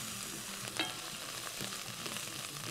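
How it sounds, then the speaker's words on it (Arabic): Small pieces of garlic frying in a pan and being turned over, a faint steady sizzle with a brief clink of the utensil and a few soft scrapes, quiet and close, no one talking. "ونقلب"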